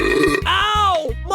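A single loud, close belch forced out on command, a gravelly voiced burp about a second long that ends abruptly.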